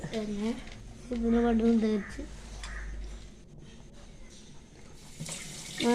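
Water pours into a pot of prawn curry with ground coconut in a Kerala kitchen. A brief splashing pour sits between stretches of a woman's speech, which is fairly quiet overall.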